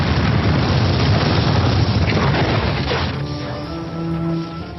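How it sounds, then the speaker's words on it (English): A massive night-time explosion blows up a house by the city walls in Edinburgh: a loud, broad roaring blast that rumbles on for several seconds, then thins out and fades. "late one night there was a massive explosion"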